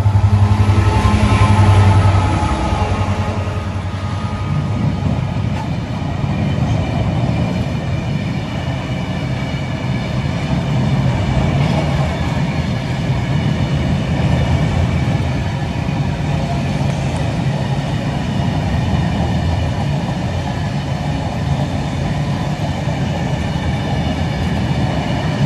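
A freight train passing at Syston, a long continuous rumble with rhythmic wheel clatter and grinding, loud and close throughout, opening with a brief tonal horn or engine whine.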